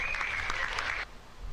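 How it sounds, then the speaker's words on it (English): Brief burst of clapping in a livestream studio setting, a dense patter of hands for about a second before it cuts off abruptly. "BET deserves a round of applause for that"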